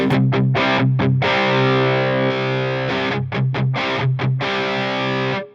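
Electric guitar runs through a Line 6 Helix Placater Dirty amp model, modeled on a Friedman BE100, with saturation engaged, giving thick, sustained distorted chords broken by short choppy stabs before a final ringing chord cuts off.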